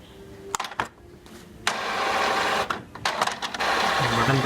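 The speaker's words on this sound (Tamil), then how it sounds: "இந்த பட்டன் ப்ரெஸ் பண்ணிங்க அப்படின்னா ஸ்டார்ட் ஆயிரும்" An Epson L4160 inkjet printer starts its ink initialisation, with whirring motor runs, clicks and mechanical clunks that stop and start before settling into a steady close hum.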